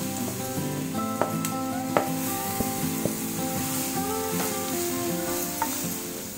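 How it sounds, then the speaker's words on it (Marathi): Grated beetroot fries in melted Dalda for beetroot halwa, giving a steady close sizzle with scattered clicks of a spoon stirring through the pan and no talk. "आपण त्याच्यावर आता हा किसलेला बीटाचा किस घालतो आहे"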